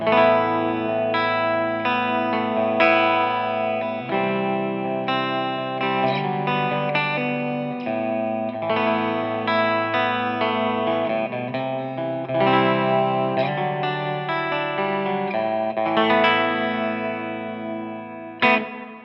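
A clean electric guitar plays melodic chords and single notes through a chorus pedal with modulation set high and delay nearly off, giving a shimmering, wavering, lush tone and light reverb.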